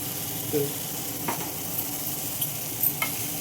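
Bottle gourd curry is stirred and mixed in a pan, with a low steady sizzle and a few soft scraping and tapping strokes heard up close, no voices.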